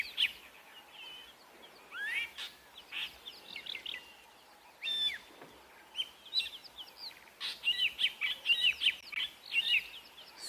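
A fork-tailed drongo mobbing raptors gives repeated sharp, chattering and whistled calls, coming in irregular bursts that grow busier toward the end, fairly close over quiet surroundings.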